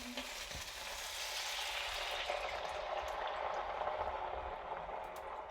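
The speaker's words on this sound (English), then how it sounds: "That's now going to just simmer for a little bit." Lamb shank stock simmers and sizzles steadily in a pot, a continuous close bubbling and frying hiss with no talk.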